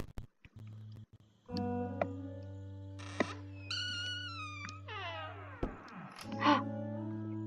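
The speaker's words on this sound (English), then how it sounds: "We have a cat." Cat in the game Marie's Room gives several drawn-out meows and wavering cries in close succession, clear and near over a low steady hum, with a few soft clicks before the first call.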